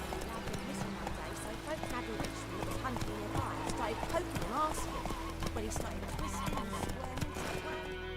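Horse hooves clip-clopping at a steady galloping rhythm in the video game The Witcher 3, moderately loud under a continuous layer of game music and ambience.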